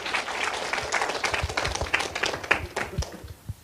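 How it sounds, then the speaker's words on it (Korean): Audience applause at a church gathering, with clearly separated individual claps forming an uneven, moderately loud burst that thins out toward the end. "자, 참부모님께 큰 박수를 참아버님께 올려드리겠습니다."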